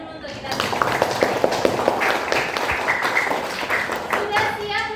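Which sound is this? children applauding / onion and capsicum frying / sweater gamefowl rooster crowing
children applauding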